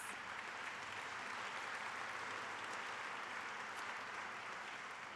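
Sustained, steady applause from a graduation ceremony audience honoring diesel technology graduates at Rosedale Tech, dense and even throughout with no voices over it.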